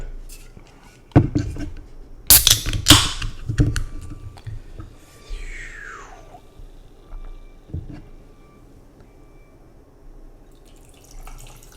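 Kvass is poured over ice in a glass, with clinks and cracks of ice followed by a liquid pour and a fizzing trickle, close and fairly quiet.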